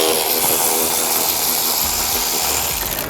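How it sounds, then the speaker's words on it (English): A power tool on a 10mm socket whirs continuously, loud and close, while removing intake tube bolts from the airbox of a 2024+ Mustang GT, easing off slightly toward the end. "using a 10mm socket, we're going to go ahead and remove the two 10mm bolts that are holding the intake tube here to the airbox"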